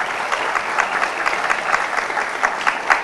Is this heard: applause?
yes